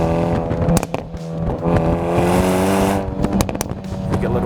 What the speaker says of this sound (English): You get a little backfire there, a little poppity, poppity, pop, pop, pop.